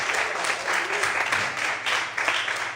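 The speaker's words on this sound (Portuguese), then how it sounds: "Aplauda o Senhor bem forte." A church congregation claps loudly and continuously in praise during a Portuguese-language service, dense and sustained, with voices rising through the applause.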